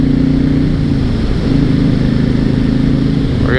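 A 2006 Honda VTX1300 V-twin motorcycle accelerating, a loud, close, throbbing engine note with a strong low pulse whose pitch climbs briefly, dips and rises again, heard from the rider's position.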